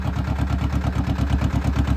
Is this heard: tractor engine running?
yes